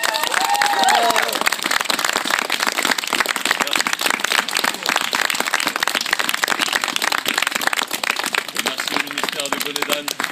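A concert audience at a French ministry event breaks into sustained applause, dense rapid clapping that fills the whole stretch with cheering mixed in, while a voice speaks faintly over it near the start and end.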